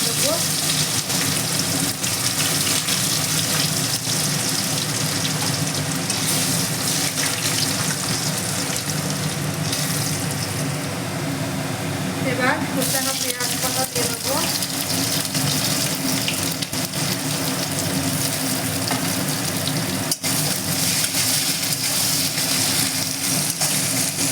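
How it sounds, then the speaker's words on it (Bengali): Onions frying in hot oil with garam masala and chopped garlic for a mutton kosha give a loud, continuous sizzle throughout, with a brief voice partway through. "লাল হওয়া পর্যন্ত আমি ভেজে নেব পেঁয়াজগুলো"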